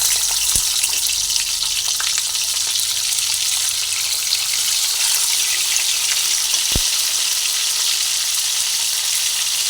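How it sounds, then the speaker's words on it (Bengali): Bhola fish pieces fry in hot oil in a wok, giving a steady, close bubbling sizzle that runs unbroken throughout, with a couple of brief sharp clicks. "কড়াইতে তেল দিয়ে নিচ্ছি তেলটা গরম হয়ে গেছে গরম হয়ে যাওয়া গেছে তারপরে আমি মাছগুলোকে এক এক করে তেলের মধ্যে দিয়ে মাছগুলোকে ভেজে নেব"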